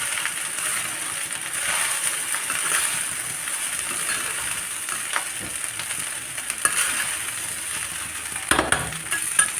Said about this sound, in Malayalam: സിമ്മിൽ വെച്ച് നമുക്ക് നന്നായിട്ടൊന്ന് മിക്സ് ചെയ്യാം.